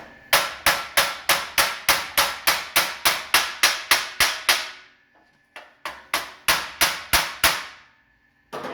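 Rapid metallic hammer blows ring out on the edge of a car body metal panel on a 1956 Chevy wagon, close and loud in an even run of about four strikes a second, then a short pause and a second burst, with no voices.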